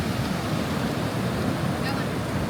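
Ocean surf crashes on a beach in a continuous, broad roar of breaking waves, close and steady, with some wind rumble and no voices.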